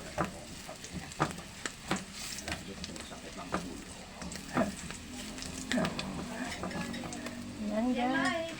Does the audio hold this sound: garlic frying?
yes